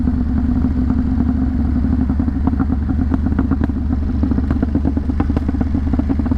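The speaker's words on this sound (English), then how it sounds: "It's backfiring the whole time." Motorcycle engine coasting downhill in a high gear, with steady engine drone and repeated sharp crackling pops from the exhaust backfiring throughout, close and continuous.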